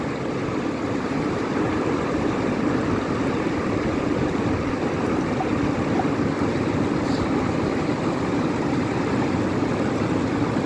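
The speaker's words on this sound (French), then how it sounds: "on a plaisir de voir le filtre travailler, l'eau s'écouler" Water streams steadily through a Katadyn BeFree squeeze filter into a container, a continuous close rushing trickle with no pauses and no voices.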